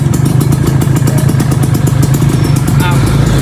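A car engine revs and drones continuously close by as a learner works a manual clutch, a steady mid-pitched rumble with slight clattering, while voices talk over it.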